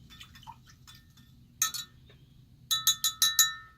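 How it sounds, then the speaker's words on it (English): A glass stirring stick mixing essential oils into a carrier oil in a glass container, giving light clinks and taps: two quick clinks, then a rapid run of five bright strikes, close and clear over a quiet background. "using our glass stirring stick, we are evenly distributing the essential oils throughout our carrier oil"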